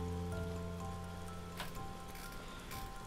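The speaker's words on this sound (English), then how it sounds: "spawns like a little rain cloud above you." Soft rain from a small rain cloud spawned above a player in Elder Scrolls Online, a faint steady patter layered over a quiet musical drone.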